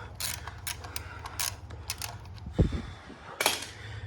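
A 17 mm wrench works a car's oil drain plug loose, giving a series of faint metallic clicks and ticks, then a dull knock as it breaks free, followed by more light clicking.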